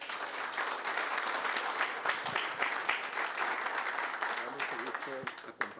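Audience applause welcoming Professor Fernando Reimers to a conference, a dense steady wash of clapping throughout, with a voice briefly audible near the end.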